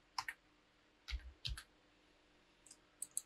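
Computer mouse clicks in quiet room: a quick double click near the start, another pair around the middle, then faint light clicks toward the end, no talking.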